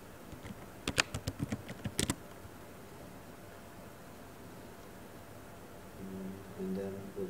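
Computer keyboard typing of a Linux apt-get command, a quick burst of close, crisp key clicks early on, then quiet room tone.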